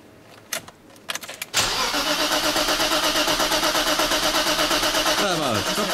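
A BMW M30 engine cranks with a few uneven bursts after a connecting-rod bearing change, then catches and settles into a loud, steady idle with a faint rev near the end.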